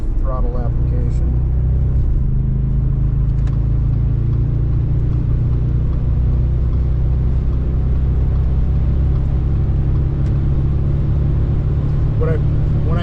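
Car lapping a race track at a track day, its engine a loud, steady low drone filling the whole stretch, with people talking over it throughout.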